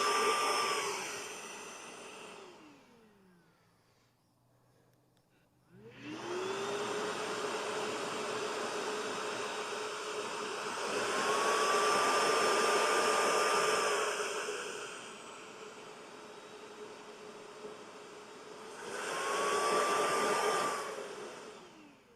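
Flex 24V cordless jobsite vacuum FX5231 starting up, winding down briefly, then restarting and running steadily, its whine rising twice as turbo mode kicks in; a close, continuous motor roar with no talk.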